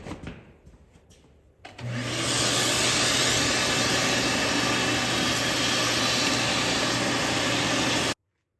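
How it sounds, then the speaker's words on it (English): After a quiet moment, a vacuum cleaner switches on and roars loudly and steadily with a rushing, whining hiss as it sucks up debris during a car fuel-injection install, then cuts off abruptly. "Vacuum up some of this garbage."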